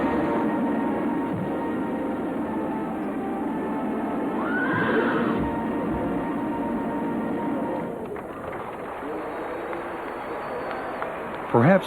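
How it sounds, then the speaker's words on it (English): Horses at a royal horse show in Ireland, a whinny rising over steady crowd and arena noise, with faint hoof clatter and a sharp knock near the end, all heard from a distance. "today's Irish are united by the sound of a horse's hooves striking lightning from the earth"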